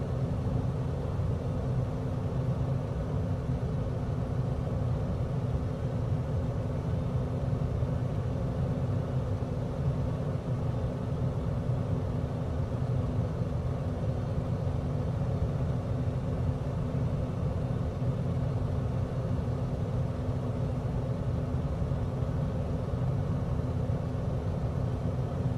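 A simulated aircraft engine in flight in Microsoft Flight Simulator, on a German bush trip out of Schwerin, gives a steady, continuous low droning rumble with a faint hiss. It stays even throughout and no voices are heard.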